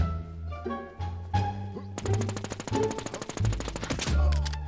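Rapid automatic gunfire in a Warz Xeroz shooter match, a dense burst of close, loud shots rattling off over the second half with heavier thumps mixed in, no talk.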